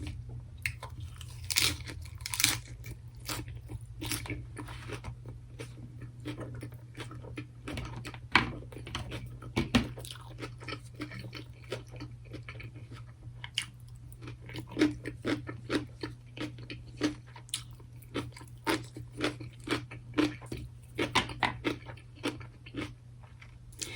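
Pickled cucumber is crunched and chewed close to the microphone during a Korean BBQ mukbang, giving a rapid, irregular series of crisp bites and wet chewing clicks over a low steady hum.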